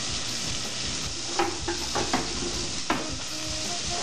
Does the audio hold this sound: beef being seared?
yes